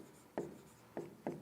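Chalk or marker strokes on a classroom board during a history lesson, three short scratchy writing bursts spaced apart, faint and close, with no speech.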